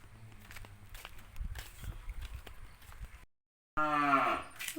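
A cow at a rural home moos once, a loud, close, drawn-out call that follows quiet outdoor background with soft rustling and footsteps.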